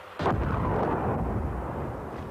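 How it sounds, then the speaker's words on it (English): Artillery shelling of the town of Gorazde in Bosnia: a sharp blast onset followed by a sustained, rumbling, noisy roar that fades slowly, with no voices. "The shelling of Gorazde continued."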